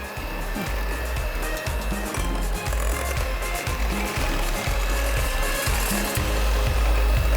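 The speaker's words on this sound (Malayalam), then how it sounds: "ഇനി നമ്മൾക്ക് സ്ലോ സ്പീഡിൽ ബീറ്റ് ചെയ്തുകൊണ്ട് തന്നെ ഈ ഓയിൽ നമുക്ക് കുറേശ്ശെയായിട്ട് ഒഴിച്ചു കൊടുക്കാം" A mixer beats cake batter at slow speed while oil is poured in gradually, producing a continuous whirring motor drone. A rapid, regular rhythmic thumping of the beaters runs steadily throughout, with no speech.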